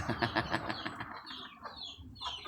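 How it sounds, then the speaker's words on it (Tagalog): Chickens eating watermelon and papaya, soft clucks and chirpy calls close by with pecking and rustling, faint and irregular. "Nagmukbang ng akong mga manok mga maring."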